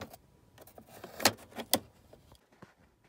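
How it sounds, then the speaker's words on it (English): Plastic ash tray trim on a BMW F10 5 Series being pried up inside the car, giving a few sharp clicks and snaps with two loud pops near the middle, plus light handling rattles close by. "Start by prying this up here"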